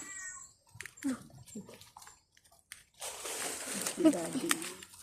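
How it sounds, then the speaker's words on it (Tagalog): A cat meows a few times at close range, short, soft cries mixed with rustling, while a person speaks nearby. "Ay, may pusa."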